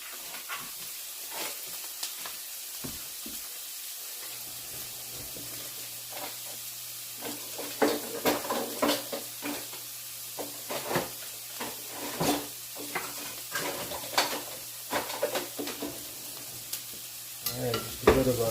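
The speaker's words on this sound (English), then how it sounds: "just a bit of a stir and make them a little bit translucent onion" Onions frying in a pan for lasagna, a low continuous sizzle with frequent scraping and clacking as a utensil stirs them, growing busier and louder toward the end.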